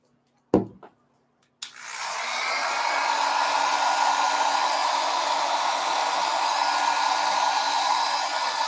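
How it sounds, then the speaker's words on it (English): A heat tool blows over alcohol ink and pearl pigments in a craft project: after a few sharp clicks and a brief pause, a steady, fairly quiet whooshing hum starts and runs unbroken to the end. "I'm not directly putting the heat tool over on top of it"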